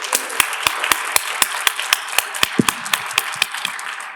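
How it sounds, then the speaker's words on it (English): Applause at a school board of trustees meeting, a small group clapping in a steady rhythm of sharp, evenly spaced claps in a room, fairly close, with no talking. "If we could give you another round of applause"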